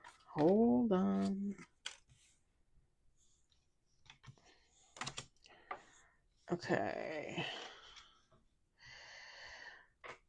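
Tarot cards are shuffled with soft clicking riffles and brief papery bursts, close and quiet, between stretches of near silence and some speech.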